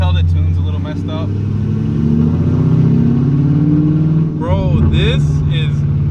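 A 6th-gen Camaro SS with Speed Engineering headers and an imperfect tune revs loudly close by, its deep exhaust rising and falling steadily as people talk and exclaim over it.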